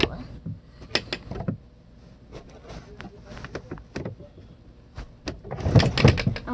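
A shirt drawer is handled during home cleaning: a close run of wooden clicks, knocks and short scrapes, ending in a louder sliding rumble as it is pushed shut.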